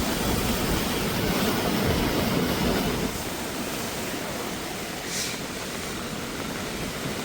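Steady, loud roar of rising floodwater rushing during heavy rain in a village, broad and continuous like a torrent, slightly easing after a few seconds but never stopping.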